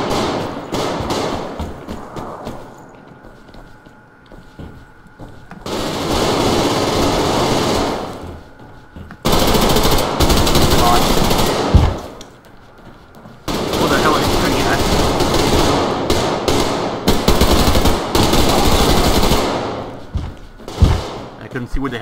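Machine gun fire in the Survarium video game comes in several long rattling bursts separated by quieter gaps, with a voice talking at points.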